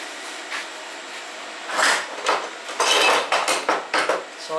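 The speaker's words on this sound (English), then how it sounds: "So I use my long reach C-clamp to get onto it." A long reach C-clamp is fitted onto the rusty front guard of a Holden HK HT HG, giving a run of sharp metallic clanks and scrapes that start quietly and grow louder and denser near the end.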